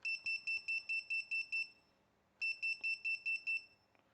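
A NewbeeDrone Infinity 255 AIO flight controller on USB gives a row of sharp, high electronic beeps in a steady rhythm, then a pause, then another run of beeps, close and clear.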